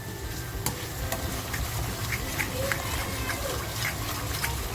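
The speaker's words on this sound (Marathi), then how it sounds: "आणि अगदी तेल सुटेपर्यंत आपल्याला हा फ्राय करून घ्यायचा आहे" Masala frying in oil for a surmai fish curry, cooked without tomato until the oil separates, gives a steady soft sizzle with scattered clicks and stirring taps throughout.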